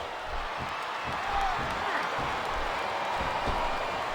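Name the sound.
video game crowd chanting in a wrestling arena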